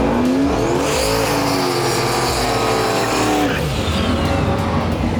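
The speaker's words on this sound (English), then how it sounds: "this is Kirk's official pass at the Mayhem" A turbocharged LS-powered Foxbody Mustang makes a drag racing pass, a loud, sustained engine roar climbing in pitch through gear changes, with a dip and recovery midway, heard close and without talk.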